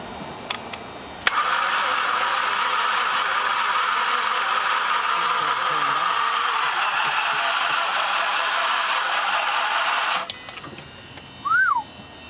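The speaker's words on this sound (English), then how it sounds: "It's spinning over, that's good." A flood-damaged car engine cranks over on the starter for about nine seconds, a loud, steady whirring drone with no firing, starting and stopping abruptly, followed by a brief whine near the end.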